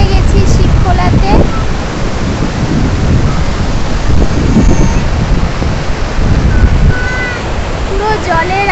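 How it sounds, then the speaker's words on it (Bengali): Loud, continuous rushing river water at Shivkhola fills the scene with a dense, steady roar close by, with brief chirps of other sounds breaking through near the end. "পুরো জলের আওয়াজে কিছু শোনাই যাচ্ছে না"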